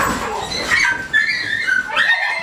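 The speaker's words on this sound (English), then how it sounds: "Some dogs were fighting." Dogs scuffle with sharp yelps, whimpers and short barks in quick, overlapping bursts, fairly close and fairly loud.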